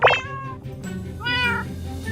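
A cat in the Minecraft video game meows twice, a short sharp mew followed by a longer drawn-out meow, heard clearly over a low game background hum.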